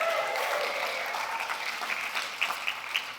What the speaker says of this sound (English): They don't usually get a round of applause, so let's give them one.